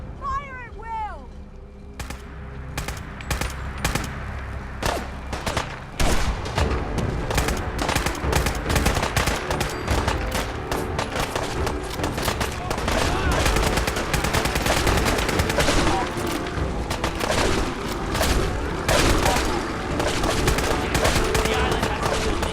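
Sustained gunfire rattles through a firefight in the fog in Fallout 4: Far Harbor, dense overlapping shots and bursts filling the whole stretch, with shouted voices mixed in early on.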